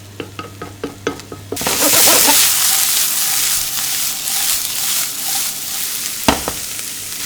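Vegetables, tomato left out, hit hot olive oil in a frying pan with a sudden loud sizzle that settles into a steady, close crackle, after a few knocks of utensils at the start.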